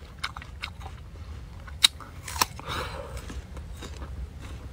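Close, crisp bites into a freshly picked star fruit: two sharp crunches a moment apart, then softer wet chewing, quiet against a faint background.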